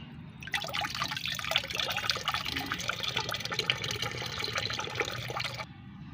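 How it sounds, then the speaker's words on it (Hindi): Liquid chalk fertilizer is strained into five litres of plain water, giving a steady close trickling and splashing pour that runs for several seconds with no talk, then stops abruptly near the end. "5 लीटर सादा पानी में इस 1 लीटर फर्टिलाइज़र को छानना है।"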